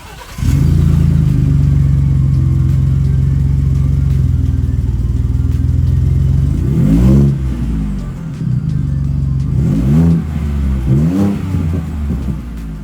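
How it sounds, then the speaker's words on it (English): A 2023 Ford F-150 Platinum with a 3.5L twin-turbo EcoBoost V6 and MagnaFlow exhaust idles with a steady, deep rumble, then sends out three sharp revs that rise and fall, each settling back to idle, loud and close with no talking. "let's hear a little bit of an exhaust note from MagnaFlow"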